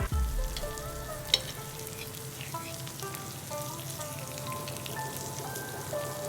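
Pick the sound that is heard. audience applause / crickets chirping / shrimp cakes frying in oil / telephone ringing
shrimp cakes frying in oil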